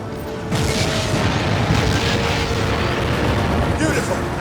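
Heavy cannon blast in the Crysis video game, a sudden booming burst followed by a sustained rumbling roar and crackle of debris, loud and close.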